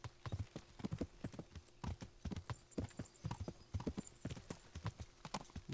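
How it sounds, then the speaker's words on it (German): Horse hooves clip-clop steadily at a riding pace in the medieval game Kingdom Come Deliverance, a quick even rhythm of close, crisp hoofbeats with a faint background hum. "Gut, reiten wir hier wieder zurück zum Gasthof."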